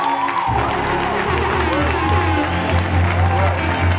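An audience at a show applauds and cheers, a dense wash of clapping mixed with crowd noise and shouting, and a voice talks over it near the start.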